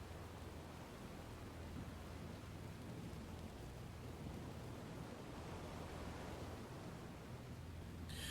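A thunderstorm with heavy rain in the naval warfare game Destroyer: The U-Boat Hunter makes a steady, even roar of rainfall with low rumbling underneath. It runs unbroken and fairly quiet, with no voices.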